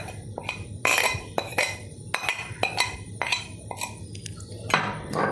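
Onion, green chili, curry leaves and chili powder being tipped into a bowl for a salted-mango dish, giving a run of sharp clinks and taps of utensils against the bowl, close and moderately loud with no talking.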